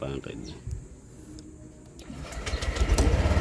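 A motorcycle engine cranking and catching, then settling into a rough idle with no throttle, close by and rising in loudness toward the end, with someone talking over the start.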